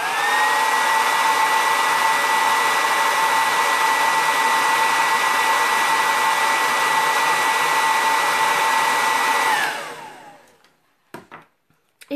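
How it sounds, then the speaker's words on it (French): A hair dryer runs loud and close with a steady whirring blow and a high whine, then switches off at the end and spins down, followed by a few faint clicks. "Tout de suite, sèche-cheveux."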